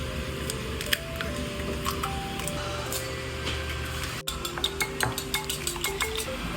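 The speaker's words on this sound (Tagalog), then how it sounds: "Kabati ako ng 3 itlog." Three eggs whisked in a bowl while cooking corned beef with corn torta: a brisk run of clinks and taps from a utensil against the bowl, close and fairly quiet, over a steady background hum.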